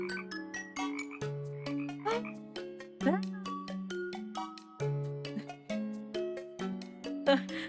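Frogs croak in the MySims video game: a steady run of bright, tonal, musical croaks in a bouncy rhythm, fairly quiet and with no talk over them.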